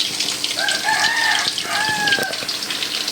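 A chicken calls close by in a rural yard, a couple of drawn-out crowing notes followed by softer clucks, over a faint background hiss.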